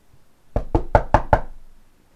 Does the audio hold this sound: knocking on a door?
yes